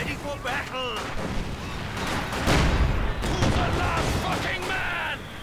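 Gunfire and sniper shots ring out in a strategy video game, with sharp reports, booming artillery and continuous battle noise at steady loudness, plus game voice fragments mixed in.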